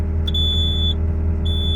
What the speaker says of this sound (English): Once you turn this on, it's going to be beeping at you, let you know, hey, this is activated